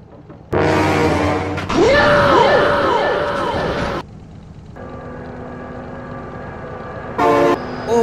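Train horn blasts loudly as a locomotive rushes by in the BeamNG.drive game, with excited voices shouting over the long tones and a fainter engine rumble following.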